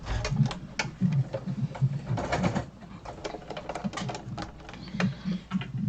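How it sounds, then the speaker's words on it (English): A Kenmore computerized sewing machine stitching fabric for a large grocery tote bag, rapid rhythmic mechanical clatter in close bursts with short pauses between runs. "So this is a Kenmore computerized sewing machine"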